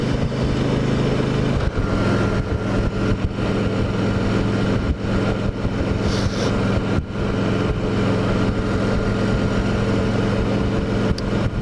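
A 2014 Harley-Davidson Ultra Classic on the move, its engine a loud steady low rumble throughout with slight swells in pitch, plus wind over the microphone.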